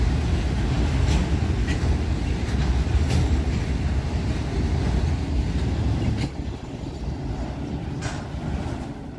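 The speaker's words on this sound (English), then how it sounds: "train after train after train" A CSX train rumbles past over damaged rails near Greenwich, Ohio, in a continuous heavy roar, with faint clicks from the wheels, fading a little toward the end.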